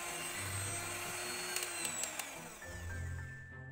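An electric hand mixer whirs at high speed through sponge cake batter with a steady, faint motor hum, broken by a few sharp clicks as the beaters knock the bowl.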